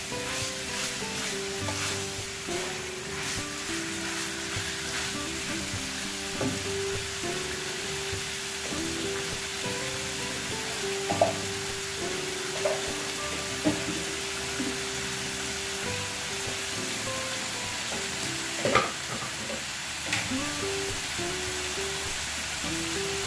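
Garlic chicken with pepper and bay leaf sautés in a pan, a steady low sizzle running throughout while a spoon occasionally scrapes and clinks as the mixture is stirred.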